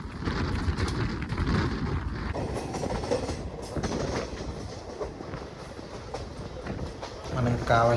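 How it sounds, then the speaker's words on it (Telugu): The Tirupati–Adilabad Krishna Express passes alongside a moving train, a loud steady rumble of wheels on rails with a rhythmic clickety-clack that swells toward the end. "తిరుపతి ఆదిలాబాద్ కృష్ణా ఎక్స్ప్రెస్ మనని క్రాస్ చేసుకుంటూ వెళ్తుంది"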